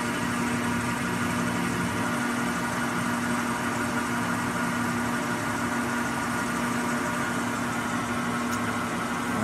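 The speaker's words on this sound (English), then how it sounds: "Really nice, quiet machine in both the spindle and the table." A Blanchard Model 18-36 vertical spindle rotary surface grinder runs with a quiet, steady machine hum and a faint tonal whine, unbroken and even throughout with no talk.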